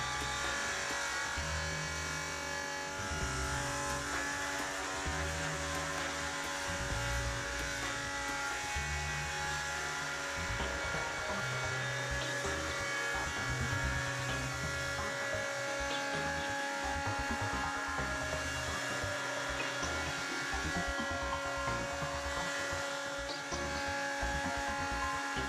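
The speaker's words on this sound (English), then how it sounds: "set the cutting depth of the second stage and repeat the milling procedure into the opposite direction." An automatic beveling machine from BDS Maschinen GmbH mills a workpiece edge in a second-stage pass, giving a steady, loud motor whine and cutting buzz that runs unbroken throughout, with low rumbling shifts as the cutter works along the edge.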